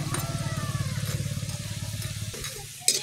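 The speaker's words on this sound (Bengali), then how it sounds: "বড়ি ভেজে নেব, নাড়াচাড়া করে।" Lentil dumplings (bori) made from matar dal sizzle in hot oil in a pan while being stirred, a close, continuous frying hiss with a low pulsing hum underneath and a sharp clink near the end.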